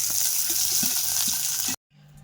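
Chopped onion and fish pieces frying in hot oil in a wok, a steady close sizzle that runs on evenly and then cuts off abruptly near the end.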